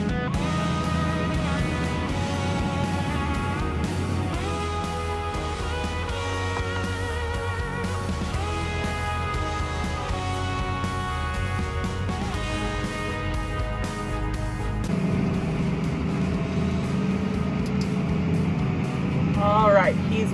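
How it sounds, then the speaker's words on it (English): A tractor engine drones steadily from inside the cab, a continuous low hum with a tonal whine, its pitch shifting slightly as it works, while someone talks over it. "Just got in my tractor."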